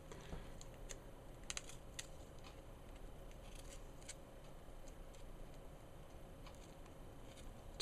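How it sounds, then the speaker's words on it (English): Trimming the paper edges of a handmade sewn journal, heard as a series of faint, sharp cutting snips and clicks scattered irregularly over a steady low background hiss, with no talking. "or trim off the paper edges here"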